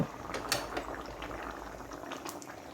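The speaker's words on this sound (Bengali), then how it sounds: "আর এক চামচ ঘি দিয়ে ভালো করে ফুটিয়ে নেব" Curry finished with a spoonful of ghee boils in a pot, a steady dense bubbling with soft pops, close and fairly quiet, no voices.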